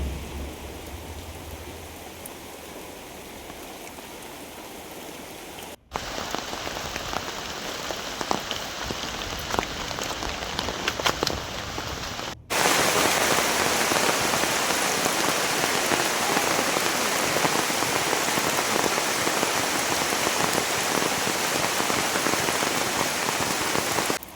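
Heavy rain pours steadily on a farmhouse garden plantation on a windy day, a dense continuous hiss that grows louder across abrupt cuts, with no voices.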